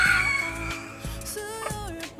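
Small colored chickens of a little breed cluck and give a short crow close by, with a few quick calls over a faint farmyard background.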